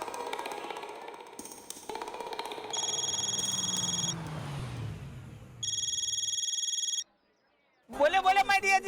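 A telephone rings in electronic bursts, a steady tone pattern repeating with gaps, heard amid a domestic comedy scene with background music and other sounds between rings.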